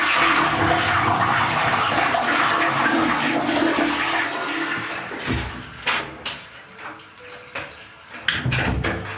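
A toilet with an attached mini bidet in Laos flushes loudly and nearby, a rushing gush of water that tapers into gurgles and a few clunks and drips as the tank settles.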